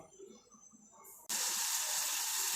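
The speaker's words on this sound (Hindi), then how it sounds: "पानी में उबाल आने शुरू हो गया है" Half a cup of water heats in a pan over a medium flame. A faint, quiet stretch gives way abruptly to a steady, bright hiss of bubbling water that continues to the end.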